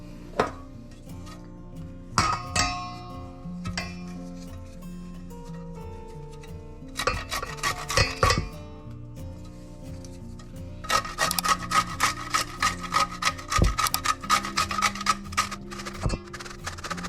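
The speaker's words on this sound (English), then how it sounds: "And now I'm gonna grate some courgettes inside of it." Courgettes rubbed against a kitchen grater, heard as short bursts of rasping strokes and then a longer run of fast, steady scraping close up, with pauses between the bursts.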